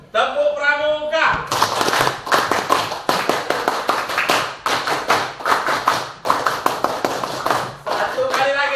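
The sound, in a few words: scout rhythmic clap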